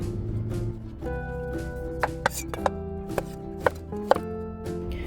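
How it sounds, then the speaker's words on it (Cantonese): A knife cuts bottle gourd on a board in a short run of sharp, separate chops, about seven crisp knocks spaced irregularly over a faint background hum. "你可以切滾刀狀或者切片都得"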